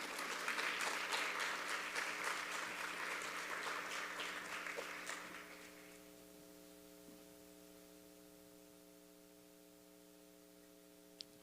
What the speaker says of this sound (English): Y'all can applaud again.